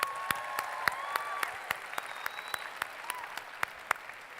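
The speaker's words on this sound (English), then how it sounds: "give yourselves a round of applause for showing up and coming to convention" Scattered applause from a convention crowd at a keynote, thin and fairly distant, with a few sharp individual claps standing out over a soft wash of hands and faint whistles.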